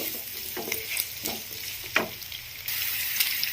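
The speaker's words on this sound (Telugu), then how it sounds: "ఆయిల్ కొంచెం వేడెక్కిన తర్వాత ఆనియన్ పచ్చిమిర్చి మంచిగా ఫ్రై చేసుకోవాలి" Onion and green chili frying in heated oil for a curry, a close, steady sizzle with a few spoon knocks and scrapes from stirring.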